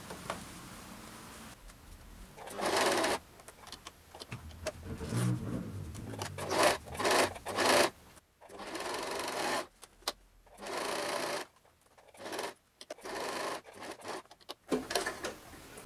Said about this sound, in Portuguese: Vocês estão vendo que eu coloquei os alfinetes e agora eu vou costurar